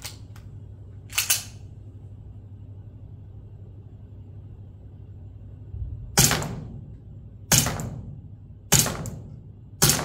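A GBLS M1911A1 gel blaster pistol fires five sharp, close snapping shots, one early and then four spaced about a second apart near the end, with a low steady hum beneath.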